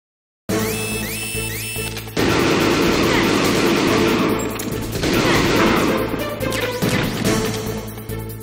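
Metal Gear Solid on PS1 in hard mode, with bursts of gunfire and crashing impacts over game music and electronic tones after a brief silence, loud and dense throughout.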